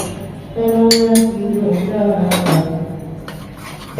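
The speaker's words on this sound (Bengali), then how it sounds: "সব কিছু ভালোভাবে মিশিয়ে নিব" A spoon scrapes and clinks in a pan while garlic butter prawn sauce with milk, chili flakes and black pepper is mixed, giving steady close metallic scraping with a few brighter clinks over a low continuous rumble.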